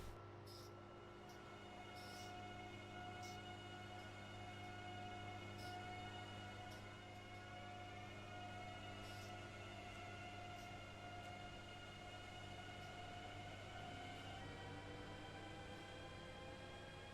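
A long train hauled by four locomotives rumbles past in a steady low drone, with sustained whistle-like tones and faint clanks layered over the rolling noise, distant and quiet throughout.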